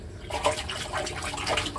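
Well water splashing and trickling during washing at a small rural nursery, with irregular close splashes and drips that come and go in short bursts.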